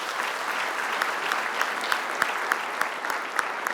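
Audience applause at a celebratory event, steady moderately distant clapping from a crowd with a few sharper individual claps standing out, sustained for several seconds.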